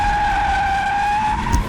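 Rear-wheel-drive Bentley luxury GT, lightened by nearly 500 kilos, drifting with a loud, sustained tire squeal close by over a steady engine rumble.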